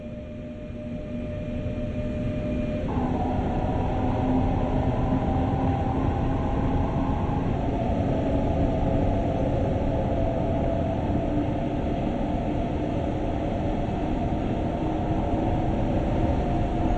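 Steady rumble of a German double-deck passenger coach hauled by a Bauer 146.2 electric locomotive in the Train Sim World 2020 game, loud and continuous from inside the carriage with shifting motor tones and no talk.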